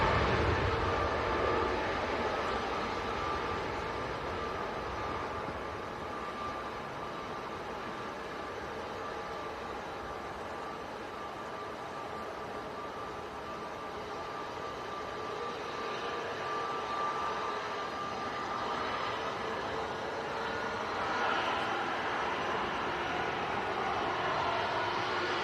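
An EasyJet airliner bound for Venice taxis at Manchester Airport on a windy day, a steady, broad jet engine roar that holds moderately loud and swells slightly toward the end, with no talk over it.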